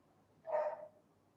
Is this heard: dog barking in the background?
yes